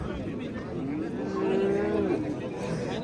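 Oxen and cattle low at a busy livestock market, a long drawn-out moo rising over a steady crowd murmur.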